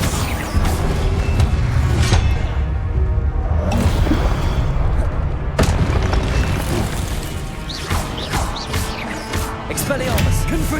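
Repeated blasts and booms of Confringo fire spells in Hogwarts Legacy, a magic duel with several loud bursts and whooshes scattered across dense combat noise, with shouted spell incantations over the fighting.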